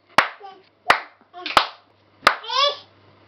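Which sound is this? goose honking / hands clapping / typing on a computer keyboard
hands clapping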